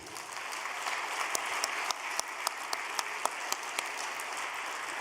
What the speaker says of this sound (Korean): 박수 한번 올려드립시다.